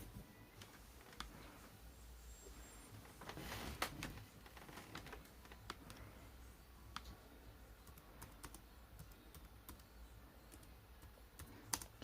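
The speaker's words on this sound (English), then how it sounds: "So I'm just typing the message to them." Keys on a computer keyboard at a home gaming and streaming setup, clicking in quick irregular bursts with occasional sharper taps, close and fairly quiet with no talking.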